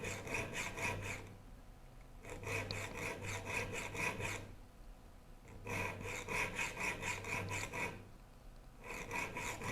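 Rasping strokes of a file sharpening the teeth of a rip saw, in two long bursts of rapid back-and-forth filing separated by short pauses, close and fairly steady.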